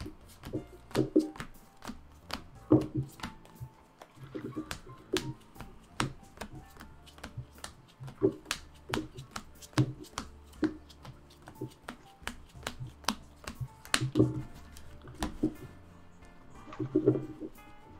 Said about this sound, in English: let's do a good shuffle. I'm going to do a pile shuffle too